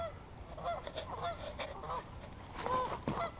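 Several geese honk loudly and repeatedly, overlapping harsh calls close by, with a burst of squawking near the end.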